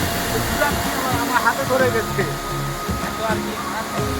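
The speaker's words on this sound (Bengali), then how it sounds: "জল পড়ার ঝরঝর আওয়াজটা আলাদাই" Changey Waterfall pours with a steady, broad rushing roar, with a person talking excitedly over it nearby.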